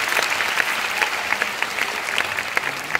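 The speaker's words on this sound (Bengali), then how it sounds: "একটু করতালির জন্য অনুরোধ জানিয়ে রাখলাম।" An audience at a school bravery award ceremony claps steadily, a dense, close patter of many hands that continues evenly with no voices over it.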